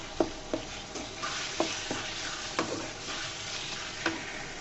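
Brinjal pickle being stirred in a pan, a spatula scraping and knocking at an irregular pace over a steady sizzle, close and fairly quiet with no talking.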